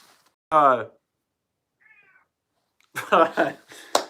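A house cat meows close by in short, loud cries amid excited talk, with a faint mew in between; people speak around it during a live reaction to a Kentucky versus Ohio game.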